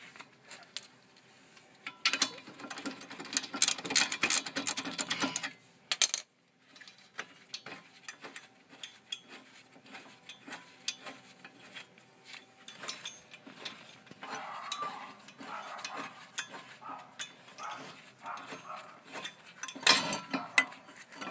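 Mechanic's tools work a large brake caliper bracket bolt loose on the front disc brakes of a 2002 Nissan Sentra, with scattered metallic clicks, ratcheting and clanks. A busier burst comes early, then quieter intermittent taps with no speech.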